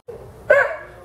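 A farm dog gives one short bark outdoors on a frozen winter farm, close and fairly loud after a brief low rustle.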